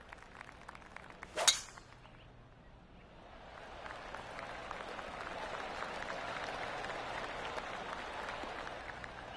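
A golf crowd in the 2K PGA video game, at the Players Championship final round, breaks into a swelling wash of applause after a brief sharp clink, the clapping building and holding steady at a moderate distance.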